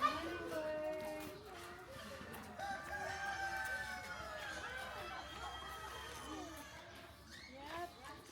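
Chickens and a rooster at an overnight campsite, crowing and clucking in an overlapping stream, with people talking throughout.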